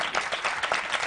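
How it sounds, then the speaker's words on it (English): Brief burst of audience applause in a television studio, a quick dense patter of many hands at moderate loudness. "Give this brother a round of applause."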